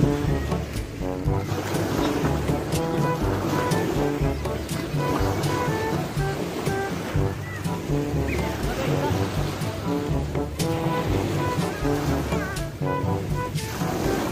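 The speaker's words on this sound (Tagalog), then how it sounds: "Ay, tanaw na namin ang dagat." Sea waves wash in at a beach in Calaca, Batangas, a continuous rolling surf close by with repeated surges, and occasional voices and other background sounds mixed in.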